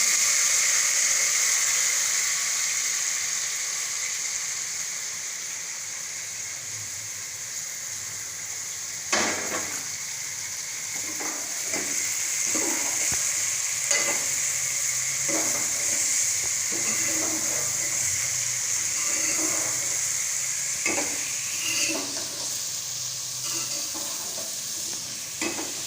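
Okra fries in a pan with chilies, a steady loud sizzle and hiss with repeated clinks and scrapes of stirring, close up.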